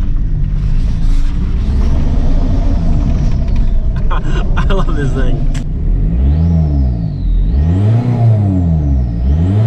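A Volkswagen Bora VR5 with a six-speed gearbox revs loudly up close, its engine swelling and falling in repeated sweeps, while someone talks over the first part.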